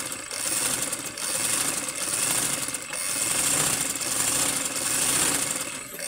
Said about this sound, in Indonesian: Nah, ini contoh kalau kita menjahit menggunakan daya listrik, suaranya seperti ini, suara mesinnya.